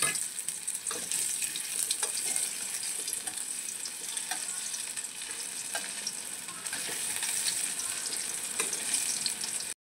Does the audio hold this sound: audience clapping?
no